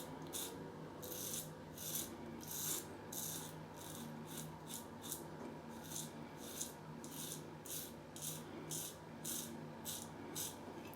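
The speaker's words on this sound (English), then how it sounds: "You can really hear it cutting the hair there." Merkur Futur safety razor cutting through facial hair while shaving, giving a steady run of crisp, raspy scraping strokes, about a dozen or more in quick rhythm, close and fairly faint over a low background hum.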